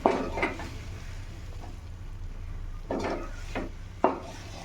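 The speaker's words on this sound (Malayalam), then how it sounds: "ഇനി നന്നായിട്ട് ഇളക്കി കൊടുക്കുക." Chicken roast is stirred in a hot pan. A spoon scrapes and knocks against the pan in a few separate strokes over a low, continuous frying sizzle.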